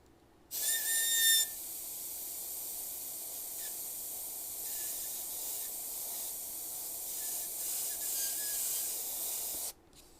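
An airbrush sprays paint on a 1966 Pontiac GTO, giving a steady close hiss with a whistling edge for about nine seconds. It starts abruptly, briefly whistles louder at first, then cuts off.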